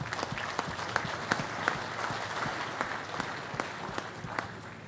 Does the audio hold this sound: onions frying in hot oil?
no